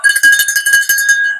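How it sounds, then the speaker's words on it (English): A bell rings in a steady run of bright metallic strikes, close and loud, with a sustained tone, alone without talk. "Where's my bell?"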